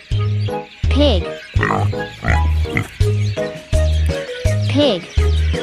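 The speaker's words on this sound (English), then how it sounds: "Pig." A cartoon pig from a children's animal-sounds lesson gives a string of short, evenly spaced oinks, loud and close, over a bouncy repeating backing tune.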